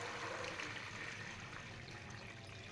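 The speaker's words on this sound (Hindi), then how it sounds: "हाफ के जी हमारे चावल हैं तो एक 1 kg हम इसमें पानी ऐड कर देंगे" Water is poured into a cooking pot holding cumin, about a kilogram of water for half a kilogram of rice, making a soft, steady splashing rush that stays faint and even throughout with no voices.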